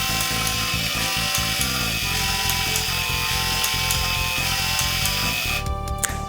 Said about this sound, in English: it's transferring, which means the printer should pick up any second now